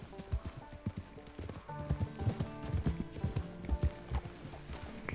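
Horse hooves clop in a video game, a steady quick run of close, distinct hoofbeats on hard ground throughout, with faint background sound.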